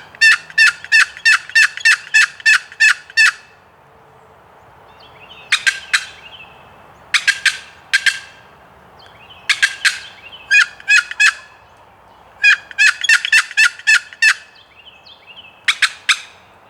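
A wild turkey gobbler on opening day of hunting season gobbles loudly and repeatedly in the open, in several separate bursts of rapid rattling notes with short pauses between, and no talk.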